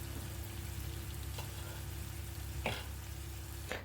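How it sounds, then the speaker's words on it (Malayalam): Chicken tikka pan-fried on the stovetop without an oven, cooked in two batches: a soft, steady sizzle of pieces in oil with a couple of brief sharper spits. "ഞാൻ രണ്ട് പ്രാവശ്യമായിട്ടാണ് ഇത് വറുത്തെടുക്കുന്നത്"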